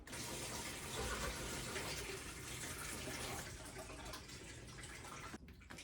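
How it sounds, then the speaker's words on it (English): Water runs continuously while lentils and rice are rinsed in a kitchen, a steady close splashing wash that trails off near the end. "you basically just have to rinse it a few times until the water is clear in the lentils and rice"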